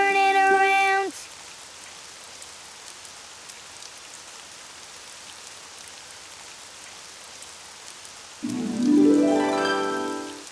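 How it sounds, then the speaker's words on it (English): Rain falling outside in a cartoon, a soft steady patter through the middle, with tonal music at the start and end. "Oh, it's raining outside."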